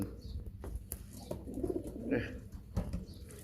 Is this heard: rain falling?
no